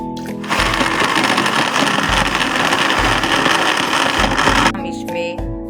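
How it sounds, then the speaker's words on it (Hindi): Juicer machine grinding softened kiste (tamarind-like) ingredients for a Ramzan chutney, a loud steady whirring motor running continuously for several seconds before cutting off. "अब हम इनको ग्राइंड करेंगे जूसर मशीन में।"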